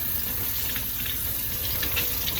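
Tap water running steadily over tie-dyed fabric being rinsed in a sink, a constant close hiss and splash with slight gurgling, with no talking.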